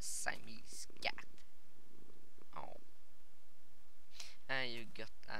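A tamed ocelot cat in Minecraft gives a low rumbling purr with soft clicks, close and quiet, while a person talks over it at times.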